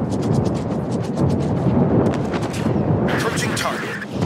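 Heavy naval guns from warships in the World of Warships video game rumble and boom in a continuous loud roar, with crackling bursts toward the end, under a brief voice.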